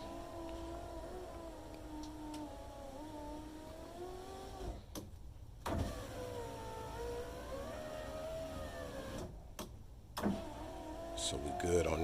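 Power window motor in the door of a 2000 GMC Yukon whining as the glass travels, a steady mechanical drone with pitch sweeps broken by two short pauses, heard near and fairly quiet with a faint car hum beneath.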